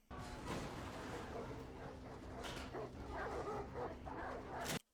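Several dogs in a TV drama bark and yip in a busy, overlapping chorus, loud and close, with scattered whimpers and sharper yelps breaking through before it cuts off abruptly.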